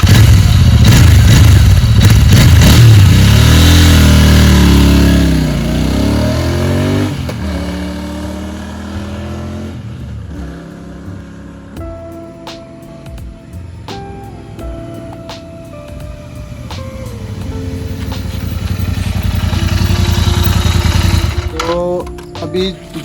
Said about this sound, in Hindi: और इसकी एग्जॉस्ट की साउंड आपको सुनाता है।